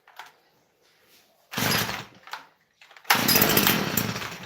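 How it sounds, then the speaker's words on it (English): A cold two-stroke engine on a small power-tool machine is pull-started on full choke: a brief sputtering crank, a pause, then it catches and runs loudly and raggedly. "Let's quickly see if I start this machine. It's going to be a cold start."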